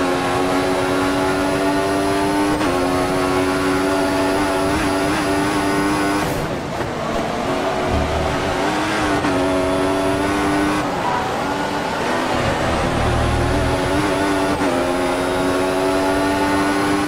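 Formula 1 cars with smaller turbocharged engines and 8-speed gearboxes race in the F1 2014 video game, a loud sustained engine whine that climbs in pitch through each gear and drops sharply at the shifts, with no talking.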